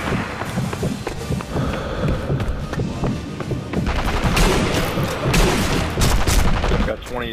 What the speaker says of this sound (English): Down to my machine gun now.